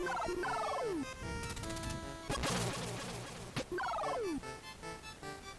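A turkey gobbles in a video game, with rapid descending gobble bursts at the start and end, separated by a stretch of tonal chimes and a crashing smash, loud and close with no talking.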